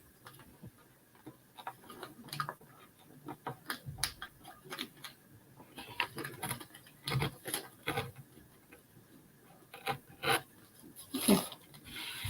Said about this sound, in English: I'll come back and take the sandpaper and score the edges on it